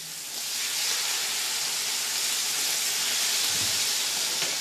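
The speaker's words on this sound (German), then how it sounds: "In der Küche brutzelt es in 2 Pfannen." Beef rump steak sears in hot fat in two pans in a farmhouse kitchen, giving a steady, broad sizzling hiss that swells slightly and continues without pause.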